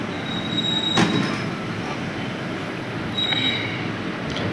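The Indo-Ceylon Boat Mail night train rumbles along departing Tiruchirappalli, wheels squealing sharply now and then, a continuous loud rolling noise and no talking.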